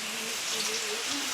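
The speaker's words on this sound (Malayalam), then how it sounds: "മഴ പെയ്യണല്ലോ." Steady rain falls outside a home kitchen as a brief, even hiss of drops, continuous and fairly close, with no distinct individual impacts.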